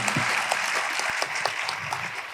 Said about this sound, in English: A big round of applause for Millo Sunka